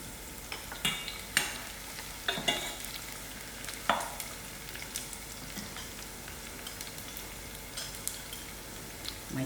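Dry chilies and garlic fry in oil with a continuous soft sizzle, punctuated by several sharp clinks and scrapes of a spoon stirring in the pan, close up and without speech.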